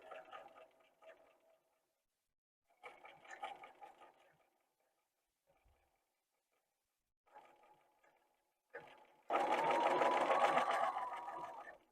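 Sewing machine hemming knit pants with a twin-needle stretch stitch, running in short separate bursts of rapid mechanical stitching with pauses between, ending in a longer, louder run; no talking.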